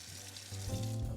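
Water gushing from a Kohler Haku kitchen faucet with boost flow, a close, steady hissing rush that swells stronger midway through the short burst, with no talk.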